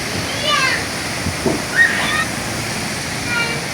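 Rushing water at Diyaluma waterfall, heard from a bridge viewpoint: a steady broadband roar holds throughout, with voices faintly audible over it.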